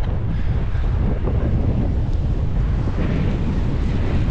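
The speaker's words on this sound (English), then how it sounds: "this is the worst wind I've ever ridden in" Strong winter wind buffets a microphone while cycling, a loud, constant low roar and rumble that fills the whole stretch without letting up, with no voices.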